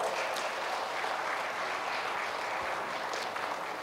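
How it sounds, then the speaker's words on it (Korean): Audience at a Daejeon artists' convention applauding in thanks for the outgoing arts federation president, a broad continuous wash of many hands clapping at a moderate distance, steady for several seconds. "우리 박홍준 회장님에서 큰 감사의 박수 부탁드리겠습니다"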